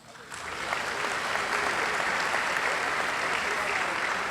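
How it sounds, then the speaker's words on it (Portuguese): Congregation applause in a church, swelling in over the first second into a loud, sustained roar of many people clapping that holds steady to the end, with voices mixed into the crowd noise. "Dê um aplauso a Jesus."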